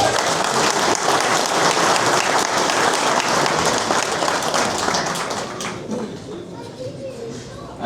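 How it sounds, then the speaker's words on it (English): Applause for the Ram Hogget class winner at a sheep show, with a dense crowd clapping steadily at close range, then thinning and fading toward the end as a voice speaks. "a big applause for Damien."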